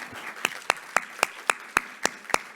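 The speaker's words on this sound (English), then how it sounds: "let's give a big round of applause for our experts today" Sparse applause at a social enterprise impact-financing conference panel, a handful of distinct claps in a steady rhythm, fairly close and moderately loud, with only a few people clapping.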